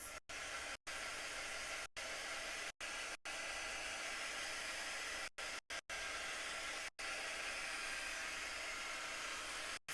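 A heater blows a steady stream of air to dry paint on a craft project, giving a constant loud broadband whoosh. The airflow is cut out briefly several times.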